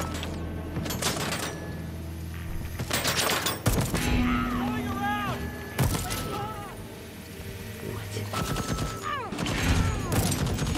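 Rapid gunfire and explosive bursts from a shooter video game, loud and dense, with repeated volleys, turret fire and clattering impacts layered over a busy game soundscape.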